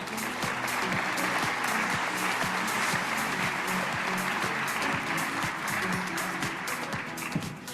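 An audience at a county update event applauds to welcome a speaker, with steady, dense clapping from a crowd that holds at an even level throughout.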